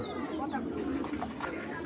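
A racing pigeon in a Bangladeshi breeder's loft coos softly in a low, murmuring run, close by but faint, with someone talking over it throughout.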